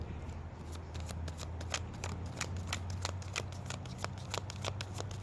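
Rapid, crisp card shuffling with repeated riffling bursts in a steady rhythm, close and fairly loud.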